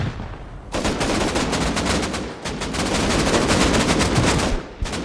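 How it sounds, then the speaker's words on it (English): Rapid automatic gunfire in the console edition of the video game Rust on PS5, dense, loud bursts of shots cracking almost without pause for the whole stretch, with a brief drop near the end. "who's shooting me in the back, bro?"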